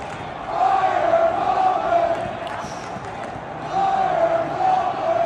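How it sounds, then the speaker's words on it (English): A large stadium crowd at a Steelers football game chants "fire Tomlin" in a repeated, sing-song rhythm, swelling in waves over a steady roar of fans in the second half. "that's a fire Tomlin chant"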